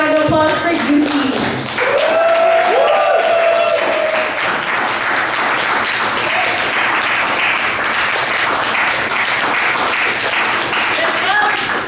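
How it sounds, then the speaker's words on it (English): A poetry open-mic crowd at Nook Cafe in Edmonton applauds a poet with dense, steady clapping that lasts the whole stretch. A voice is heard over it at the start. "Can I get a big round of applause for you, Steve?"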